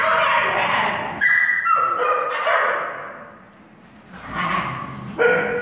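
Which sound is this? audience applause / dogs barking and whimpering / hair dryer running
dogs barking and whimpering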